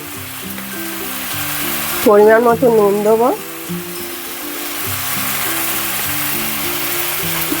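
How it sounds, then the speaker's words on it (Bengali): Taro flower curry frying in a pan over high heat, a continuous sizzle with rhythmic scraping as it is stirred; someone talks briefly in the middle over the cooking. "গ্যাসটা জোরে দিয়েই কিন্তু আমি আস্তে আস্তে ভাজা ভাজা করে নেবো"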